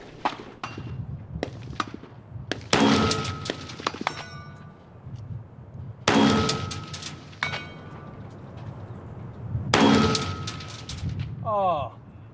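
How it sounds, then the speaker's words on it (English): Rifle shots ringing off steel targets at 500 yards, three sharp reports spaced a few seconds apart with faint clicks and handling between, followed by a brief voice. "Let's see if we can ping some steel."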